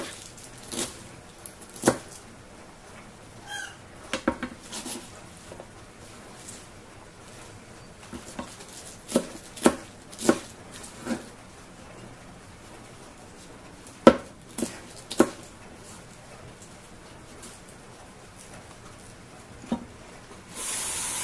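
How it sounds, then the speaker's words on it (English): Knife chopping cabbage on a board, with sparse, irregular sharp knocks spread across the span, some clustered in quick pairs, moderately close and fairly quiet against a soft background hiss. "chop again."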